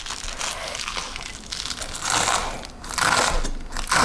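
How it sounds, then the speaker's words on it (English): Cabbage leaves rolled up tightly by hand, giving a crisp, close crinkling and crunching rustle that swells and eases in uneven bursts, with no voices. "roll up this last bit nice and tight"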